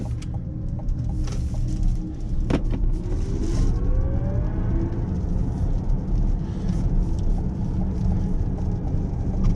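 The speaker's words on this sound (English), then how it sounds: "It's a very quick vehicle that makes some pretty cool noises once you get on the accelerator." Chevrolet Blazer EV RS all-wheel-drive dual-motor electric SUV accelerating hard in Sport mode, heard from the cabin as a strong steady road rumble with a rising synthetic motor whine sweeping upward, no talking.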